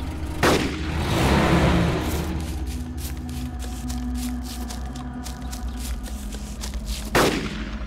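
Gunfire in the video game DayZ: two sharp, loud shots several seconds apart, each with a rolling echo tail, over a low ambient rumble and no talking.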